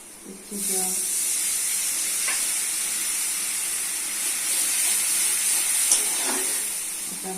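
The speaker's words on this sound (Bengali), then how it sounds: "দিচ্ছি মশলা হলুদ গুঁড়ো এক চামচ লবণ এক চামচ লঙ্কা গুঁড়ো এক চামচ ধনে গুঁড়ো এক চামচ জিরা গুঁড়ো এক চামচ" Spices sizzle steadily in hot oil with browned onions in a pan, a continuous close hiss broken by a few faint scrapes as the mixture is stirred.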